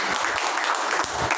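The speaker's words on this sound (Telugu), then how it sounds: "గట్టిగా చప్పట్లు కొడదామండి." A congregation at a Sunday church worship service claps hard and continuously, a thick, even wash of many hands throughout the brief moment with no speech over it.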